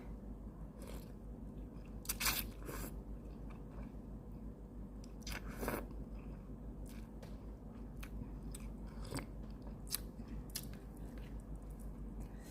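Someone eating tom yum instant noodles with a plastic spoon: quiet, close chewing and slurping with a few sharper bites and clicks scattered over a steady low background hum.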